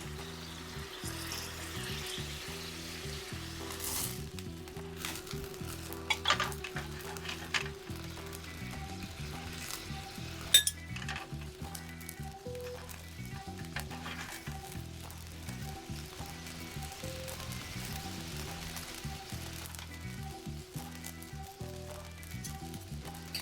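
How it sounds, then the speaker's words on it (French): Shrimp sizzle and crackle steadily in a hot pan after being flambéed with pastis, a continuous frying hiss over a low, steady hum, with a few sharper pops and clatters along the way. "Et puis maintenant, on va flamber nos crevettes."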